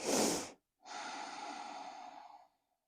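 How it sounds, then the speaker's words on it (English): A deep breath during a beginner yoga stretch for rounded shoulders: one sharp inhale, a short pause, then a long steady exhale through the nose, close and quiet. "One more deep breath here."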